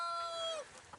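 A chicken on a farm gives a short, fairly faint tonal cluck-like call that falls in pitch, followed by a couple of softer clucks.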